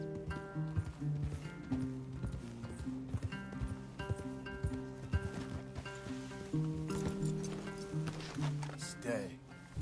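Horses move with clip-clopping hooves in the Red Dead Redemption 2 video game, a busy patter of steps mixed under voices and background game sound throughout.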